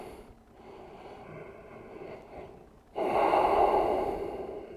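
Deep yoga breathing: a long, soft inhale is followed by a louder, fuller exhale, close and clear with no talking.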